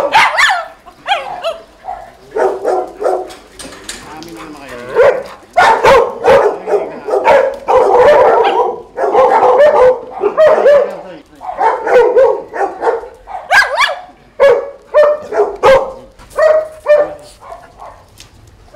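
Dogs at a dog farm bark and yip in quick bursts while playing, loud and close, with rapid overlapping barks and short whimpers continuing throughout.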